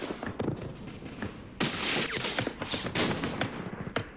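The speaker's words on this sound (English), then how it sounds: "So some very heavy fire from this particular defensive position" Heavy gunfire pours from a defensive position in the Campaign Series Middle East war game, set in the Second Arab-Israeli War, with dense, overlapping bursts of shots and thuds that grow sharper and louder midway.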